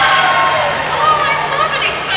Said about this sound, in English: I love an exciting crowd